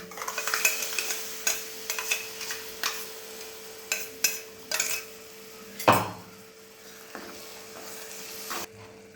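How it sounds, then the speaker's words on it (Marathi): Kadai paneer masala fries in oil in a pan while a spoon repeatedly scrapes and stirs, giving a series of close metallic clinks and scrapes over a steady soft sizzle, with one louder knock near the end. "बघा आता आपला मसाला किती छान तेल सुटोस तर आपण फ्राय करून घेतलेला आहे"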